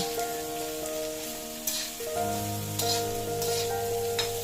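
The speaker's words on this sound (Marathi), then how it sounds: "उभे कापून घातले की भाजी तिखटपणा पण उतरता आणि खाताना बाजूक काढूक पण बरे पडतात आता हे पण जरा मिनिटभर परतून घ्यायचे" Halved green chillies being sautéed in a pan for Malvani fenugreek bhaji sizzle with a soft, rain-like hiss, broken by a few scraping stirs and brief crackles.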